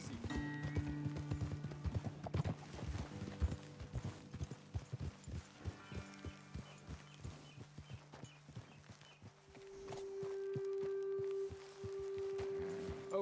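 Horses plod at a walk in Red Dead Redemption 2, steady clip-clop hoofbeats close by with tonal game music underneath and faint rustle, no talk.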